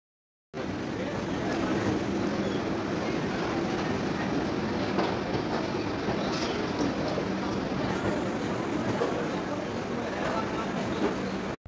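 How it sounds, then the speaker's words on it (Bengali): A train pulls into a station platform in Kolkata, heard as a continuous close rumble of rolling wheels with faint clatter that holds steady from start to finish, then cuts off abruptly. "আমাদের ট্রেন প্ল্যাটফর্মে ঢুকে গেছে"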